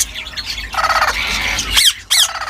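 Ringneck parrot chicks squawk close by in several harsh, raspy bursts of uneven length, separated by short quiet gaps.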